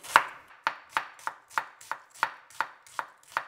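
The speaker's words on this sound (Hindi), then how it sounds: "प्याज को हम लेंथ वाइज काट लेंगे।" An onion is cut lengthwise with a knife, giving about ten crisp, evenly spaced chops on a board, close and clear with no talk.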